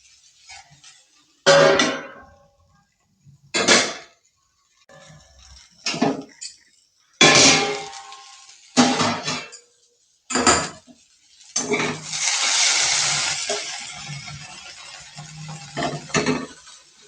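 A metal lid clanks onto a pan of cooking okra stir-fry (bhendi bhaji), one of several sharp, close kitchen clatters of pots and utensils separated by brief pauses, with a longer hissing stretch near the end.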